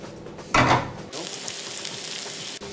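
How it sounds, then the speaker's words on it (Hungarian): Chopped onion is dropped into a pan and starts frying, with a brief loud burst of sizzle followed by a steady, softer crackling sizzle close by, and no talking. "Hagymát vágunk fel. És belehelyezzük egy serpenyőbe."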